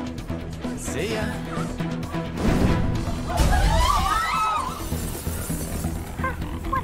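Glass shattering in the video game Persona 5, a loud crash with scattered bright fragments tumbling down and ringing over several seconds against steady game background sound.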